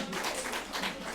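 Brief burst of congregational applause in a church during a Thanksgiving Sunday service, a dense patter of many hands clapping together at a fairly close, even level.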